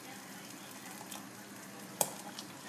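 Tunisian halalem stew with meat simmering in a pot, a faint steady bubbling and soft sizzle with one small pop, heard close and with no talking.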